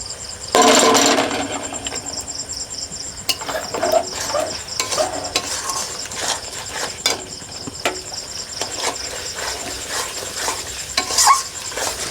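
Shahi garam masala powder is stirred into a frying pangas fish curry, with a loud burst of sizzle at first, then repeated scraping and knocking of a spoon in the pan over a constant fry.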